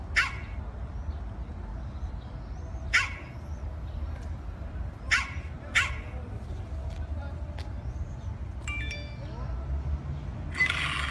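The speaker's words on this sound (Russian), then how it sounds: "Нашел собаку. Сейчас проверим ее реакцию." A dog outdoors in Russia barks in single sharp yelps spaced a couple of seconds apart over a steady low rumble of background noise, with a faint clink near the end.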